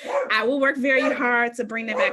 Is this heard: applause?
no